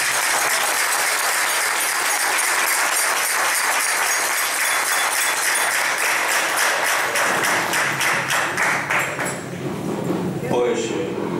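Hall applause at a local community-centre event, dense clapping that gradually thins into scattered individual claps near the end, with voices mixed in.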